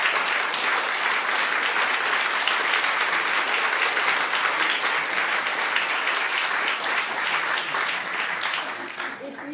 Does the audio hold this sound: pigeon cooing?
no